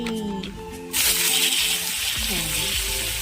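Chopped onion dropped into hot mustard oil bursts into a loud, bright sizzle that holds steady after a brief quieter moment, with a voice talking over it.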